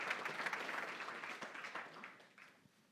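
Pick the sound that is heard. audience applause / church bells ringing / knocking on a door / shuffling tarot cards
audience applause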